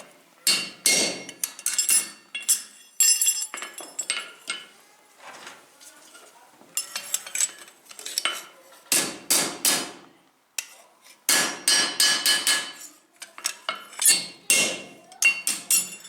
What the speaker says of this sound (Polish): Przebijanie otworów na gwoździe.